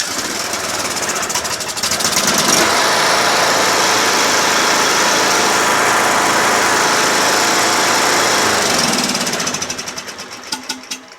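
A John Deere L100 lawn tractor engine, just choked, runs loud and close with a rough, knocking clatter, holds a steady roar for several seconds, then winds down into a few sputtering pops.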